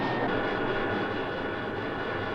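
Steady aircraft engine roar reproduced by a NASA Ames Research Center landing approach flight simulator, a continuous broadband drone that stays level and fairly loud throughout with no voices.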